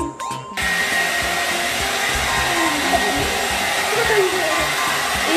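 A hair dryer switches on after a brief moment of handling noise, then blows with a loud, steady roar while a toy poodle is dried after its bath.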